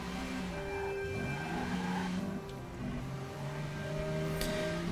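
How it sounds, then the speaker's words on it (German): Car driving in the video game Watch Dogs, a continuous mid-pitched engine drone with gently shifting tones as it speeds up and eases off, moderately quiet and steady throughout, with no talking. "das Auto lässt sich eigentlich ganz gut fahren"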